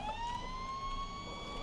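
A fire truck siren from the video game GTA 5 wails steadily throughout, a continuous rising electronic tone that stays loud and close with no talk over it.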